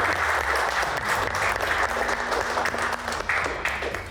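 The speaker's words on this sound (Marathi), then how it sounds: "एकदा जोरदार टाळ्या होऊन जाऊ द्या वीरेंद्र शिराळकर साठी" An audience claps for a wrestler at a player auction event, a sustained burst of many hands applauding at once, loud and steady throughout before easing slightly at the end.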